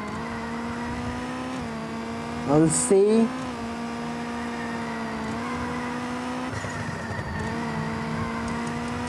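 Race car engine in the Rally Racer Dirt video game on a harbour stage holds a steady droning whine with small pitch shifts, plus a brief tire squeal, while a person talks over it.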